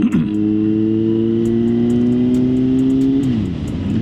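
A Kawasaki Z900 motorcycle with a Leo Vince exhaust and airbox removed revs steadily at high pitch, then drops off near the end, loud and close with no talking.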